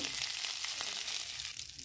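Cooking oil hisses and crackles steadily in a pan after prawns have been fried, a dense, even sizzle close by with no voices over it.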